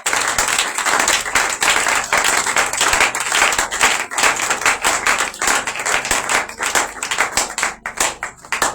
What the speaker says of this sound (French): si on peut juste donner un applaudissement au Seigneur Jésus-Christ